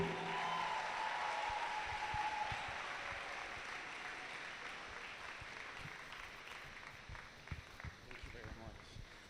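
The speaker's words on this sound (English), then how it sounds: "Please keep clapping, make some noise," An audience at a Babcock University event applauding, a full burst of clapping that gradually thins out into scattered claps and shuffling, with a voice speaking over the tail end.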